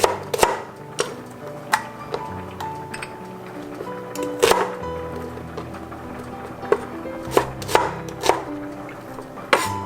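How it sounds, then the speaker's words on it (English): A knife rough-chops shallots on a cutting board while cooking a blackened cobia dish, with sharp, irregular chops close by and a few louder strikes standing out, and no voices. "Shallots, rough chop."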